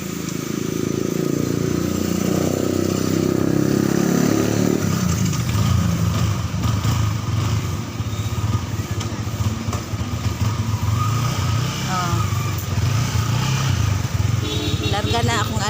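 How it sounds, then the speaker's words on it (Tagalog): A child's motorcycle engine runs steadily close by, a loud, continuous rumbling drone that shifts in tone as the bike pulls away, with people talking over it throughout. "Akong motor."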